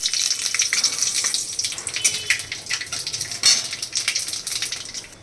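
Cinnamon, cardamom, bay leaf, dried chilli and white cumin crackling and sizzling in hot oil, a bright continuous frying hiss with sharp pops and spatters, close and fairly loud with no talking.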